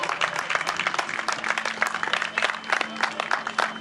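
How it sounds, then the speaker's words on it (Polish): Crowd applause at a running event in Nowy Tomyśl, a dense, steady patter of many hands clapping for two men, continuous and fairly close throughout. "Wielkie brawa dla tych dwóch panów."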